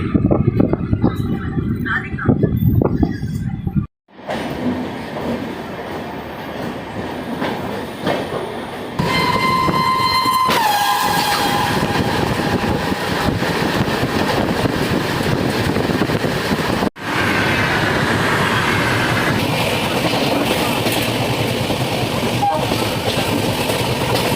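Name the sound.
superfast express train running from Anand Vihar, Delhi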